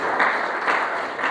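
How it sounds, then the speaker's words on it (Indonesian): A church audience claps for Jesus Christ during a sermon on the Holy Spirit, a dense and fairly loud burst of applause that holds steady throughout, with no voices over it. "Beri tepuk tangan terbaik buat Tuhan Yesus Kristus."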